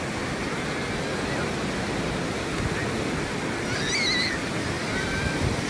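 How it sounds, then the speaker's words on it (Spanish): Sea waves wash steadily against a city shoreline, a continuous broadband roar of surf with no talk, plus a few faint high bird-like chirps briefly in the middle. "estoy aquí viendo este hermoso mar de la ciudad"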